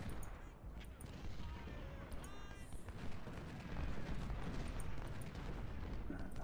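Musket volleys and artillery fire in the Ultimate General: Civil War video game at the Salem Church battle, a steady rumble of distant booms and crackling gunfire rolling continuously at low level.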